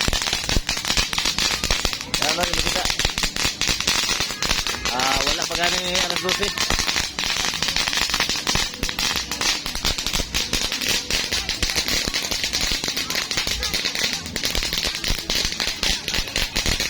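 Rapid crackling bursts of firecrackers pop nonstop on New Year's Eve, loud and close, with fireworks booming among them while people talk over the din.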